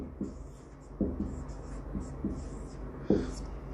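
Pen or pencil writing on paper during a maths lesson on divisibility rules, several short scratchy strokes spaced across the clip, close and fairly quiet, with no talk.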